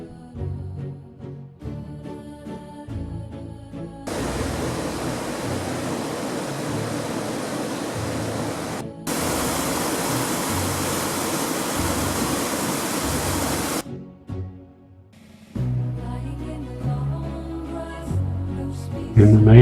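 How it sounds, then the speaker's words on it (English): Takakkaw Falls, a 991-foot waterfall in Yoho Valley, Canada, roars as a steady broadband rush of falling water, loud and continuous for about ten seconds, framed by quieter stretches of music. "The waterfall is 991 feet from the top to the river basin below"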